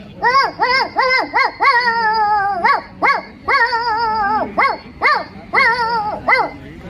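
A boy imitates a dog at a school talent competition, producing a rapid series of high, yelping barks and drawn-out whines, loud and close.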